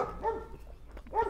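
A dog barks at an animal shelter, with two loud close barks about a second apart and a softer whine-like sound between them.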